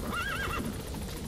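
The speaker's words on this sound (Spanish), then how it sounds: "Ah, el caballito que estaba ahí en medio, claro." A horse in Metal Gear Solid V: The Phantom Pain gives a single rising-and-falling whinny over steady in-game ambience, fairly close and moderately loud, alone without talk.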